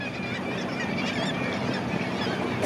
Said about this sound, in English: And these birds that you see, with a few migrating gulls, black-legged kittiwakes,